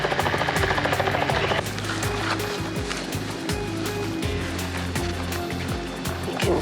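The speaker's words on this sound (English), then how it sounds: "Chopper's landing just there." A helicopter lands in the African bush near a sedated white rhino, its rotor a steady rapid thumping over loud wind-like rushing, close and continuous throughout.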